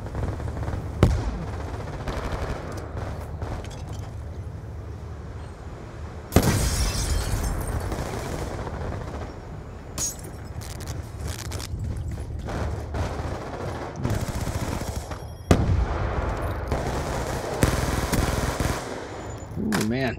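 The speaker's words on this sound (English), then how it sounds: "this Evo's got a high rate of fire" Rapid automatic fire from the Evo gun in the video game Call of Duty Black Ops II rattles in loud bursts, mixed with explosions and other game effects, while a player talks over it at times.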